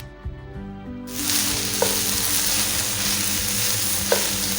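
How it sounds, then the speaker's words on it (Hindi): Okra for achari bhindi sizzles steadily in hot oil in a pan, a dense crackling fry that starts abruptly, with a couple of light stirring clinks over the constant hiss. "भिंडी हम करेंगे फ्राई।"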